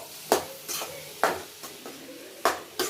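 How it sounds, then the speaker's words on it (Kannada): Chopped radish being stir-fried in a pan for a dry radish palya, with five distinct scraping stirs at irregular intervals over a low background sizzle, close and fairly loud, with no talking. "ನೆಕ್ಸ್ಟ್ ಸಣ್ಣಗೆ ಮೂಲಂಗಿ ಹೆಚ್ಚಿಟ್ಕೊಂಡಿದ್ವಲ್ಲ ಅದನ್ನ ಇದಕ್ಕೆ ಸೇರಿಸ್ಬೇಕು. ಚೆನ್ನಾಗಿ ಫ್ರೈ ಮಾಡ್ಕೋಬೇಕು."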